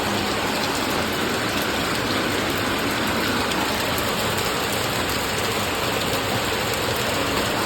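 Steady rain falls outdoors over a rooftop while pigeons keep flying, a constant, loud, broadband patter and hiss that runs unbroken with no talk.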